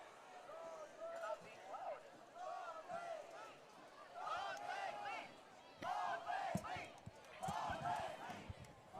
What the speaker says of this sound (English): The home crowd here is starting to get into the drive here, hoping that the Ravenwood defense will respond.